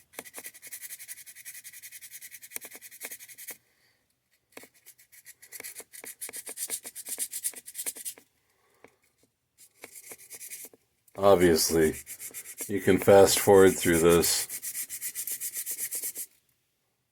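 Close, rhythmic scratchy rubbing of sandpaper on Deer Creek fire agate during carving, in repeated strokes, pausing between passes, while a person talks over part of it.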